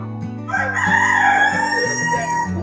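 A chicken at a poultry show, where Marokana chickens are being judged, lets out a single clear crow, drawn out and fairly close, over a background of steady low mechanical hum.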